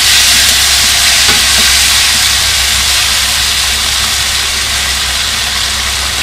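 Chicken and cashews stir-fry with sauce in a hot pan, a loud, dense, continuous sizzle with faint scraping of stirring, close up and steady throughout without speech.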